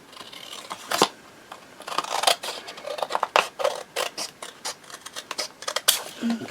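Scissors snip around a handmade paper tag, a string of close, crisp cuts in an uneven rhythm, some sharper and louder than others, with a little quiet talk.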